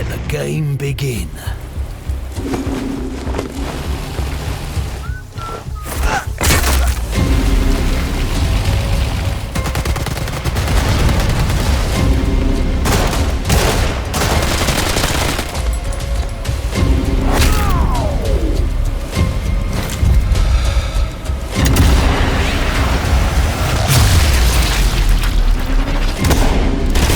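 Heavy booming cannon blasts and explosions from a game battle, loud and repeated, with rumbling impacts and a voice talking between them.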